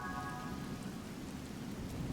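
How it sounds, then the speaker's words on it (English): Steady rain hiss from Zelda: Tears of the Kingdom, a continuous moderate wash of falling rain with a low rumble beneath and a faint tonal chime early on, with no voices. "of course it's raining"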